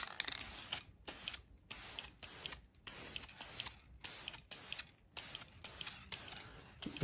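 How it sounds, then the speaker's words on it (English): Short hissing bursts from a spray paint can repeat in quick succession while painting a basket, each a sharp airy spray separated by brief gaps. "And we're just gonna kind of spray it."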